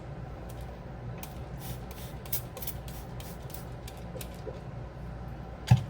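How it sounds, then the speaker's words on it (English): Light spritzes from a handheld spray mister over microgreen seeds pressed onto soil, a handful of soft short hisses spread across a quiet room with one small knock near the end. "I'm just gonna super lightly mist the top because it helps trigger the germination"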